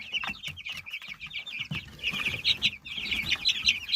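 Chickens and month-old chicks cluck continuously in a busy flock, overlapping calls rising and falling over low barnyard scuffling, fairly close and moderately loud.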